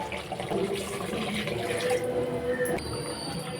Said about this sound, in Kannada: ಇವಾಗ ನೀರು ಎಷ್ಟು ಬೇಕಷ್ಟು ಮಿಕ್ಸ್ ಮಾಡ್ಕೊಳ್ಳೋಣ.